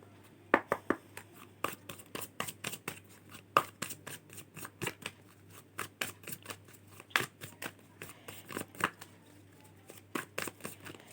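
Tarot cards being shuffled by hand, a quick series of crisp riffles and snaps, close and fairly quiet, repeating irregularly without talk.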